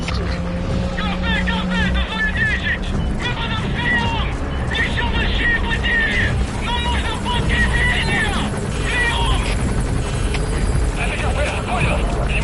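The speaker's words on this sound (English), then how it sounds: "helicopter requested." A military helicopter in the video game Metal Gear Solid V: Phantom Pain drones with a steady rotor hum throughout, with voices over it.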